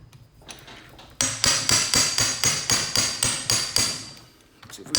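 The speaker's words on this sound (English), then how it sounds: "Out comes the impact driver." An impact driver hammers at stuck bolts on a vintage Honda twin motorcycle engine top end, a loud, close series of about ten sharp, evenly spaced rattling blows.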